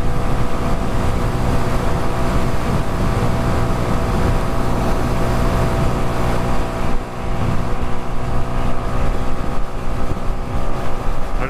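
Riding on a Honda Biz 125 motorcycle, a steady engine drone and road noise hold loud and constant throughout, with wind buffeting the microphone.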